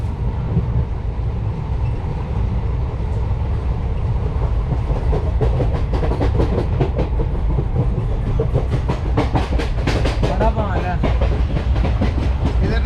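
A train runs on rails, with loud continuous rumble and rhythmic clickety-clack heard from inside, plus faint voices in the background.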